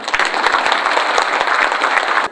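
A large crowd gives loud, dense, sustained applause at the opening of a Chungcheong-region rally for an administrative capital constitutional amendment, filling the space evenly before cutting off abruptly.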